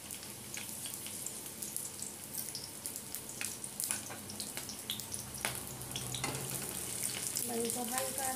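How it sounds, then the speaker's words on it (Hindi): Onions fry lightly in mustard oil with a soft, steady sizzle, light stirring clicks and a few sharp knocks; the sound is fairly quiet and constant. "अब हम अपने प्याज को हल्का सा फ्राई करेंगे"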